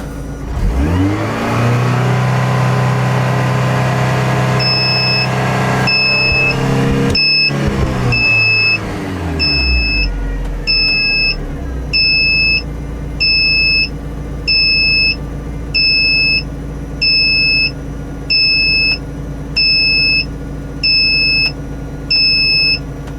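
A turbocharged 1.8 Mazda MX-5 NB engine revs hard then drops away, followed by a loud electronic EGT gauge alarm buzzer beeping in a regular on-off rhythm over the idling motor.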